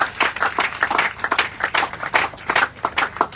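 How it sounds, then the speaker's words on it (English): An audience clapping for themselves at a real estate launch event, distinct claps from a modest crowd rising and falling in loose bursts. "Please clap for yourself. Clap for yourself."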